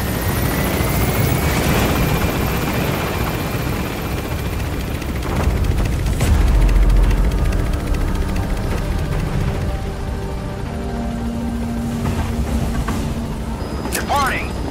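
A helicopter in Metal Gear Solid V: The Phantom Pain climbs away, its steady rotor drone filling the scene under a busy mix of game sounds and faint distant gunfire.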